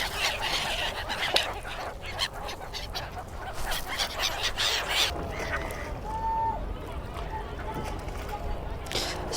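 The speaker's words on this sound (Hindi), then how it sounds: "Yeah, really very a lot of seagulls." A large flock of seagulls calls over the water at Triveni Sangam, Prayagraj, during the Maha Kumbh Mela, with many overlapping honking cries amid voices and a background hum.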